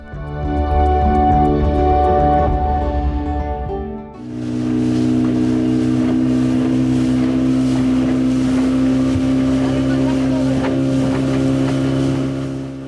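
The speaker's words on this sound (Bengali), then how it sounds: "চর মন্তাজের মান্তা কমিউনিটি দেখে আমরা স্পিড বোটে রওনা দিলাম চর হেয়ারের উদ্দেশ্যে।" A speedboat heading across river and sea waters, its engine droning steadily with a shift in pitch partway through, then a constant roar mixed with wind buffeting the microphone and water rushing past.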